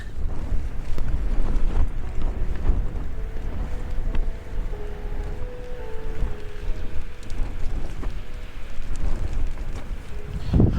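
Steady blustery wind gusts roar against the microphone at a wild camp in a thunderstorm, with low rumbling buffeting and a constant rushing noise throughout.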